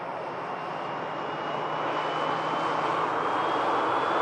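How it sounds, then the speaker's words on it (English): A Ryanair jet airliner arriving from Genoa, its engine roar steady and broadband. The roar swells gradually as the aircraft nears, with a faint whine riding above it and no voices. "We do have the next arrival here, which is a Ryanair coming in from Genoa."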